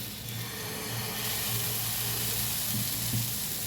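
Ragi (nachni) amboli batter hitting a hot griddle gives a steady, close sizzle that holds evenly throughout, with no voices.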